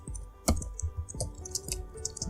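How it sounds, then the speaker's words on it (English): Keys on a computer keyboard tap in an irregular run of quick, light clicks, fairly close, with brief pauses between bursts and no voices. "you can go ahead and type whatever you want to type"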